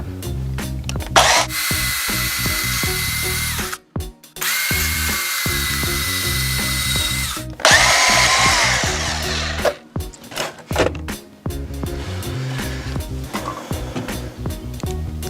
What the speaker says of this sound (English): Good little tip when you're using a bandsaw is to spin your thread when you're cutting